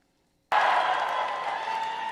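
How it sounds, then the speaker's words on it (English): After a moment of silence, a political rally crowd in New York bursts into loud, sustained cheering, a dense roar of many voices that continues without a break. "People cheering like crazy because he quoted a socialist."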